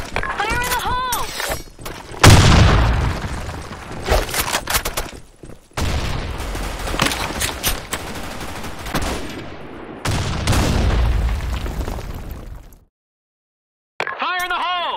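Several loud blasts and bursts of gunfire fill a Counter-Strike round on the Office map, including a heavy grenade explosion, broken by short gaps, with a voice calling out between them.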